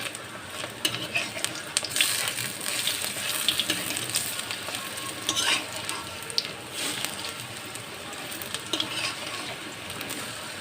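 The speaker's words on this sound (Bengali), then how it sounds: "পেঁয়াজ আর কাঁচা লঙ্কা দিয়ে ভাজা হচ্ছে" Gram flour batter mixed with onion and green chili fries in hot oil with a steady, moderately quiet sizzle and bubbling, plus occasional crackles and stirring.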